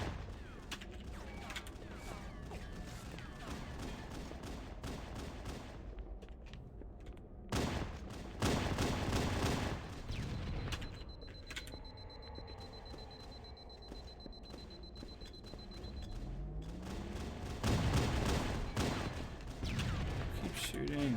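Bursts of gunfire from a Halo firefight on PC, irregular volleys of shots layered with game effects and mechanical clatter, continuing steadily at moderate loudness with talk mixed in.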